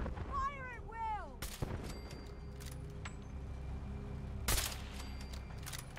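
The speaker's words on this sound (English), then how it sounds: "Ready, all fire at will." Gunfire rings out during a battle in the Fallout 4 Far Harbor game, with a few sharp loud shots and reports set against background rumble, after a brief voice-like whooping at the start.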